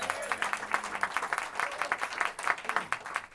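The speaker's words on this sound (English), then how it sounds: "So round of applause to Jared." A concert audience gives a round of applause at a private show, a sparse patter of claps with distinct individual hand strikes over quieter crowd murmur.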